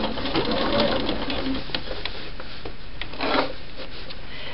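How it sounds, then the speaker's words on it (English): A sewing machine with an edge stitching foot sews around a shirt collar stand, giving a steady, close whirring hum with faint rubbing of fabric and a couple of slight surges in speed. "I'm going to stitch around the entire collar stand"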